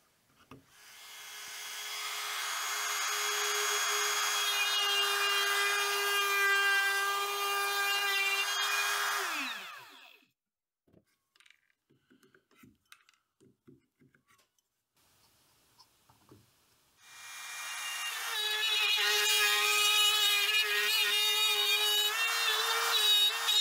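A router with a 1/4 inch bit cuts a speaker driver hole in a wooden panel. Two long, loud whining passes are separated by a quiet stretch of small knocks and rustles.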